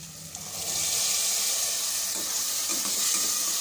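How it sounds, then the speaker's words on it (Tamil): Chickpeas that were boiled are being stirred into fried onion and tomato in a pan, with a steady close sizzle and the scrape of stirring for a few seconds, no voices. "ரெண்டு நிமிஷத்துக்கு சேர்த்து கலந்து விட்டுப்போம்"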